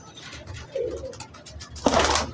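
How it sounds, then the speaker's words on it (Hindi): Pigeons, including a female, of Indian fancy breeds such as Zakh, Black Jet and Lakha, cooing close by in short soft bursts, with a louder rustling flurry near the end. "देखें वसीम भाई, देखें अल्लाह ने कैसी शान बनाई कबूतरी की, देख रहे हैं।"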